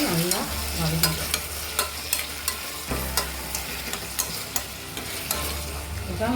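Mutton frying with onion and tomato in a pan for a Chettinad-style white kurma, a steady close sizzle broken by regular scraping knocks of a spoon stirring.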